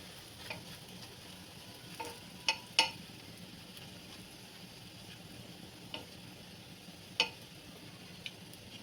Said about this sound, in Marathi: दोन्ही बाजूने मस्त खरपूस भाजून घेऊया आपण परोठा